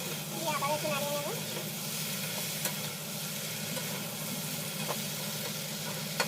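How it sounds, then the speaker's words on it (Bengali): Fried eggplant and bitter gourd stirred into spiced vegetables in a pan, a steady broadband sizzle with scraping stir strokes, a few sharp clicks, and faint background voices near the start. "দিয়ে দেবো ভেজে রাখা বেগুন আর উচ্ছে। দিয়ে আবার একটু নাড়িয়ে নেব।"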